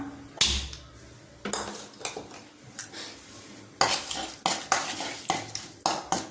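A spoon mixes gooseberry and mango pickle masala in a metal pan, making a series of distinct clanks and scrapes in an uneven rhythm, close and fairly loud, with a faint sizzle between strokes.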